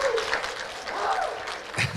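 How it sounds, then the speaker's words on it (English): Applause from guests at a bat mitzvah forms a soft, steady wash of clapping throughout, fairly faint, with a voice briefly rising over it near the end. "Yes, you can clap."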